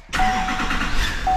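A Duramax 6.6 diesel engine in a truck with its cab removed, up on a hoist with a failing turbo, cranks and catches abruptly, then runs with a rough, loud clatter and a thin steady whistle or squeal.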